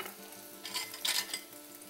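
Canola oil coating a hot pan gives a faint, steady sizzle with a couple of brief louder hissing swells, quiet and close, with no talking.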